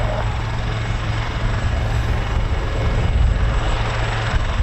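Military aircraft on a live-fire training sortie at RAF Holbeach air weapons range give a continuous loud, broad engine roar that swells slightly, with no talking.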